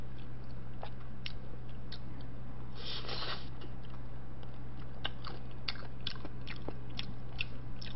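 Close chewing and eating of Korean chicken baeksuk, soft wet mouth sounds and small crunchy bites repeating irregularly over steady background hum, with no talking.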